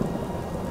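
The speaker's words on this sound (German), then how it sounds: "Und es regnet." Steady rain falling in the wilderness in the video game Skyrim, a dense continuous hiss with low rumbling underneath, close and even, with no voices.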